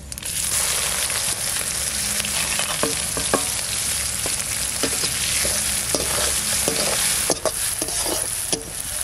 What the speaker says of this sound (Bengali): এবার পেঁয়াজ দিয়ে দিচ্ছি।